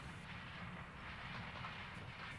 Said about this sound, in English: This was usually a 90-plus car train that tied up lots of traffic at grade crossings